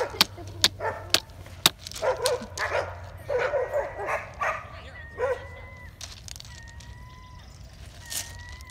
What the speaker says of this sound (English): the dogs are going really wild here today